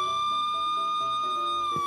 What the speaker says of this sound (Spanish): También tiene sirena, ¿Quieres que ponga la sirena?